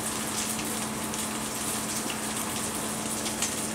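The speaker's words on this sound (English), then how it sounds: "we're going to pour that oil out of the pan" Hot oil pouring out of a frying pan in a home kitchen while cooking veal scaloppine, a steady close hiss and gush of liquid with no talking.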